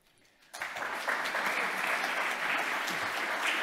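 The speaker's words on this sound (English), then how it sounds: "You've wasted your clap." A room full of people breaks into steady applause, starting abruptly after a brief quiet moment and continuing loud and dense to the end.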